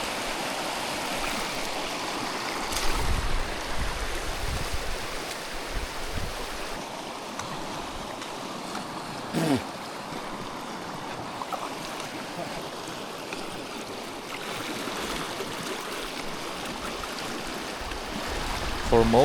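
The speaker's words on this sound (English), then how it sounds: "A river so deep and strong it almost swept me away." A deep, strong river in Parque Patagonia rushes continuously, a broad, steady roar of churning water close by, with occasional splashes and bumps rising above the wash across the whole stretch.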